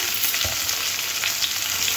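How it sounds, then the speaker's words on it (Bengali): Chopped onion and potatoes fry together in a pan, giving a steady close sizzle throughout with faint stirring scrapes and no talking. "পেঁয়াজটাও আলুর সঙ্গে একটু নাড়াচাড়া করে ভেজে নিতে হবে।"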